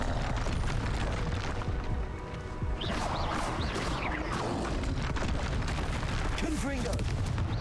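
Confringo blasting spell explosions in the Hogwarts Legacy video game, with dense booming blasts and rumbling bursts filling the whole stretch, loud and continuous, while a person speaks over the game.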